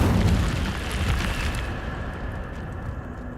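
An Incendio fire spell cast in Hogwarts Legacy, a loud, roaring burst of flame with a deep booming body that swells at the start and then sustains and slowly tapers over a few seconds.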